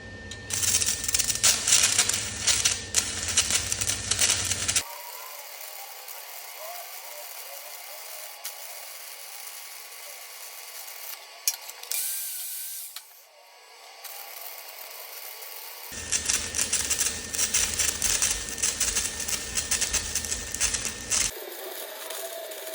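Stick welding a hot pass with 1/8 inch 7018 rod into a 1 inch beveled open-root plate on a YesWelder CT2050; a steady crackling arc runs in the middle stretch, bracketed by louder bursts of broadband noise.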